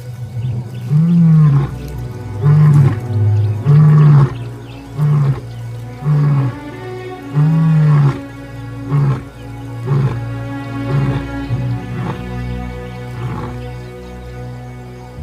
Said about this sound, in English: For days, Jericho's contact roars reverberate across the grassland,